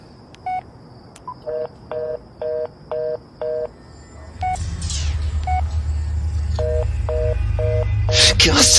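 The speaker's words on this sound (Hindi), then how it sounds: "मैंने झट से अपना फोन निकाला और पुलिस को लगाया।" Keypad tones of a mobile phone dialing the police on a Banaras–Mirzapur highway at night: a rapid run of short, evenly spaced beeps, then a low rumbling hum and a few more beeps.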